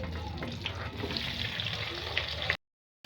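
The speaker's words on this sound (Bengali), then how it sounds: "এই যে আমি এখন ফুলকপিটা ভেজে নেব।" Cauliflower pieces frying in hot oil in a pan, a steady crackling sizzle with small pops that runs continuously before cutting off abruptly.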